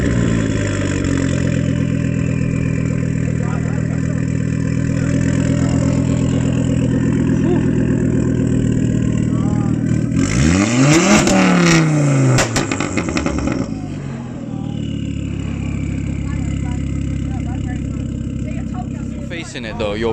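Car engine idling steadily at a car meet, rising into one rev partway through before settling back, with people talking over it throughout.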